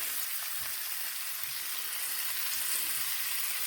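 Bacon-wrapped SPAM fingers fry in a hot pan, giving a steady, close, continuous sizzle and crackle with no talking.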